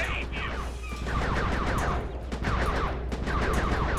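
Rapid bursts of video-game gunfire from Sly 3: Honor Among Thieves crackle through a dense, continuous mix, with repeated shots loud and close throughout.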